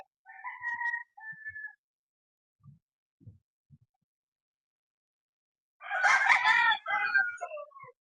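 Roosters crow twice, one call near the start and a louder, longer one near the end, with faint scattered knocks in between.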